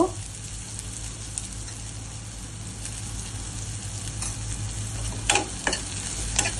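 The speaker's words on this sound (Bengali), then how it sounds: "পেঁয়াজগুলো একটু ভাজা করে নেব" Onions sizzle and fry in a pan, a steady crackling hiss with a few louder stirring scrapes toward the end.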